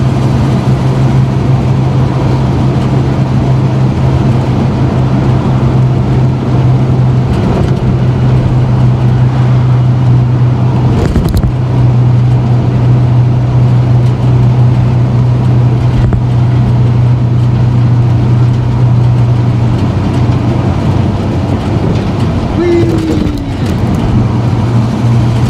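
A truck drives steadily with a constant low engine drone and road rumble, loud and close throughout, with a few brief thumps and bumps along the way.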